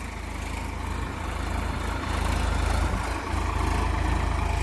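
A tractor pulling a rotating plough tills a field, giving a continuous low engine rumble with steady mechanical churning, moderately loud and unbroken.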